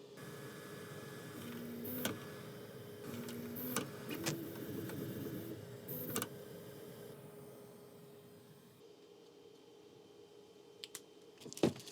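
An Anycubic Kobra S1 3D printer extrudes filament: a quiet, steady mechanical hum broken by sharp clicks and short bursts of whirring motor activity, heard close with no voices.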